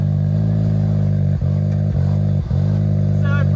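A 4x4 side-by-side engine runs steadily near the microphone while shifted into reverse, a loud droning idle with a few brief dips and small knocks.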